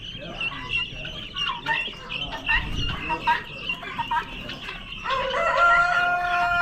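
Chickens cluck and a rooster crows at an Amish animal auction, with close, uneven clucking followed by a longer crow near the end, while people's voices murmur in the background.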